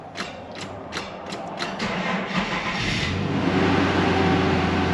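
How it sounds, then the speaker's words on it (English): Nissan Frontier pickup with 131,583 miles, running rough with a misfire and missing catalytic converters, cranking with a rhythmic starter whirr before the engine catches into a loud, steady idle. "That is starting the engine."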